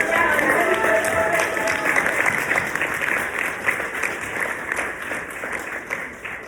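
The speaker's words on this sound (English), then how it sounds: "huge round of applause for this" A conference audience delivers a hearty round of applause, dense clapping and a few cheers that fill the room at full strength before slowly thinning toward the end.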